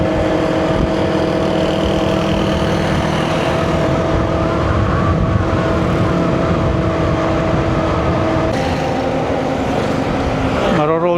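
Motorized tricycles run along a road with a steady engine drone and rumble that swells and fades as they pass, continuous throughout, with no talk.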